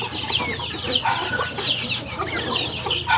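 Chickens clucking on a farm where rabbits are fed napier grass, a busy overlapping chorus of close clucks and squawks from several birds at moderate loudness, with no talk.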